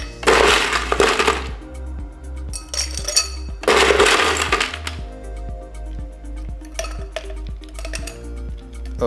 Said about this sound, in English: Let's put some ice cubes into our glass.